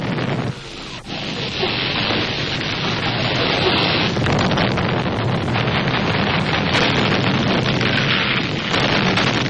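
Bombs bursting during a World War II air raid on Berlin: loud, continuous rumbling roar with deep booms and crackling debris, a broad wall of noise that barely lets up.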